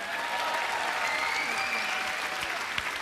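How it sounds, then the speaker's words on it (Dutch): Audience applause in a Dutch TV entertainment show, a steady dense clapping from a studio crowd that fills the whole stretch at even loudness. "Dames en heren, mag ik nog een applaus horen?"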